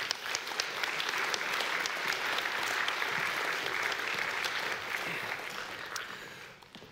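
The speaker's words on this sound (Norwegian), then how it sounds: "Vi gir en applaus til panelet som kommer opp." Sustained audience applause greets a debate panel coming on stage at a Nordic welfare model event during Arendalsuka 2016, a dense, even wash of many hands clapping that holds steady for several seconds before fading out at the end.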